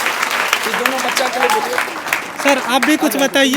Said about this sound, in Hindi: जोरदार ताली बजना चाहिए।